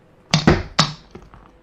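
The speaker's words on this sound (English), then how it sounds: "use your index finger to flick him up his butt" A Lego police minifigure is flicked by finger onto a toy police bike, giving several sharp close plastic clacks and thunks in quick succession, followed by a few fainter taps as the pieces settle.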